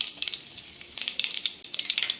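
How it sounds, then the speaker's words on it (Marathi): A tempering of mustard seeds, cumin, asafoetida and turmeric in hot oil crackles and sizzles up close, with rapid irregular pops in bursts over a soft frying hiss. "नेहमीसारखी आपल्याला फोडणी करायची,"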